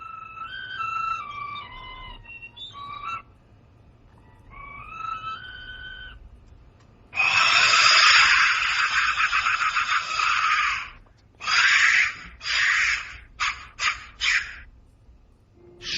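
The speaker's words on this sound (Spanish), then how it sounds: "Sonido percutiendo el interior de uno de estos silbatos intactos de la muerte" A skull-shaped clay Aztec death whistle sounds shrill, wavering whistle tones that rise and fall, followed by harsh, screaming bursts of breathy noise, loud and in several separate blasts.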